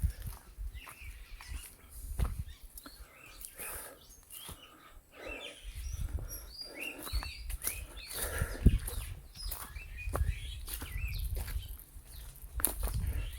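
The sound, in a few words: birds calling on a mountain trail in Saipan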